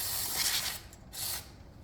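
Brake cleaner sprayed onto the rear brakes of a 2015 Mazda 3, two close hissing aerosol bursts separated by a short pause.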